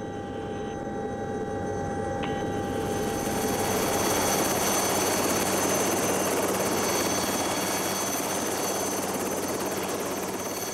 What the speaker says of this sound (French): Il faut poser l'hélicoptère sur une piste pentue, au milieu des sapins et des câbles.